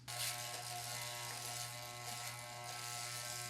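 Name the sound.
electric hair clippers with a number 2 guard cutting hair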